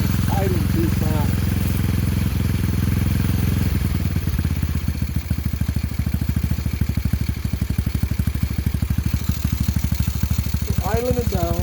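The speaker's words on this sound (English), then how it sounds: "It's idling too fast." Close up, a Tao GK110 go-kart engine with a new carburetor idles too fast, a loud, steady, rapid putter that drops slightly in pace partway through, with someone talking over it at times.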